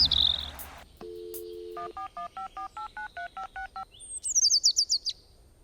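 A phone dials out for a call: a short electronic beep, then a rapid run of about ten evenly spaced keypad tones, followed by a chirpy warbling ring-back burst, all close and clean with no talking.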